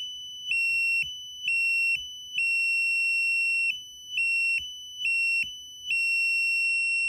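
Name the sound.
Raspberry Pi buzzer sounding like a fire alarm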